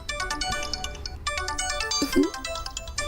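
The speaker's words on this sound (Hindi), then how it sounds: "फोन।" A phone ringtone plays as a repeating electronic melody, fairly loud and close, with a brief voice sound partway through.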